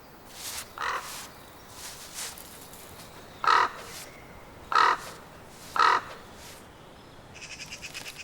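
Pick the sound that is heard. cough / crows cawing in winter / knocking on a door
crows cawing in winter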